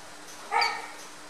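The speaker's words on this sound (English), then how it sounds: "I've got a young fella's dog in the corner, doesn't like being on the chain" A young dog kept on a chain in a corner lets out a single short bark, moderately close, against a quiet background.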